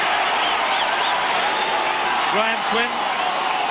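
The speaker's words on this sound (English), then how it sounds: "Crowd getting behind St George now" A rugby league crowd at a 1977 match roars and applauds as St George score a try, a broad continuous swell of noise under a commentator's voice.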